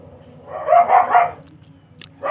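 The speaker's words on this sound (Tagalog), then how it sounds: "Aris, ayan ang aso." A dog barks three times in quick succession at close range, followed by a pause and another short bark.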